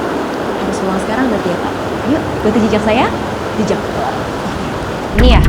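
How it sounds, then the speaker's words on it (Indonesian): A steady roar of rising tide waves surging nearby forms a continuous wash of noise, while people talk over it throughout. "ini suara ombaknya udah semakin keras"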